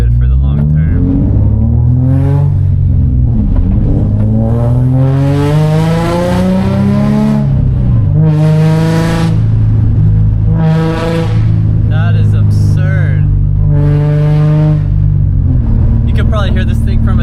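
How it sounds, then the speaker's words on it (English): A drift car engine revs hard and loud, its note sweeping up and down in repeated surges, close by and continuous, with a voice talking over parts of it. "you could probably hear this car from a mile away"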